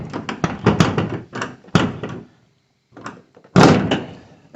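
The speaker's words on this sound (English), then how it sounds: "Makes it sound crappy when you shut the door." A misaligned door on a Dodge D250 pickup is shut several times, giving loud close thunks and rattling slams in uneven bursts separated by short quiet gaps.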